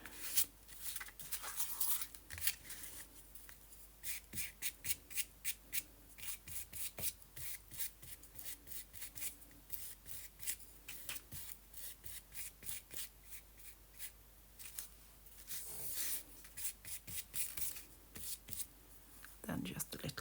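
Paper edges being scraped by hand while antique-style envelopes are made with fabric, lace and gold. The rasping strokes come close and in quick rhythmic bursts, with brief pauses between runs.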